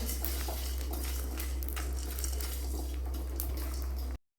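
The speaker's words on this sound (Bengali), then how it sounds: "সেদ্ধ করে জলটা ফেলে দেবো" Water draining off boiled potatoes in a kitchen, a steady pouring splash with faint clinks of a pot throughout, ending abruptly.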